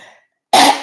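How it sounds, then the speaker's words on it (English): A single loud, close throat clearing, a short harsh rasp that follows a brief trailing breath and a moment of silence. "but let me clear my throat."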